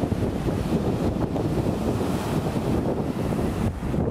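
Ocean waves wash onto the beach at Coconut Grove Resort in Elmina, Ghana, making a steady, loud roar of surf mixed with wind buffeting the microphone, with no voices.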